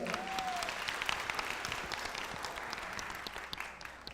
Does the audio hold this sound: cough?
no